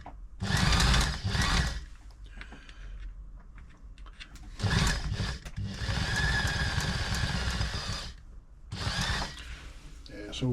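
A Brother XL5012 domestic sewing machine runs after servicing in three loud bursts of fast mechanical whirring and chatter, with quieter handling noise between the runs.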